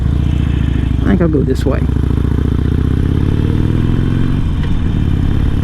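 A Harley-Davidson Sportster engine rumbles steadily and loud throughout, with a brief clatter near the start and someone talking over it.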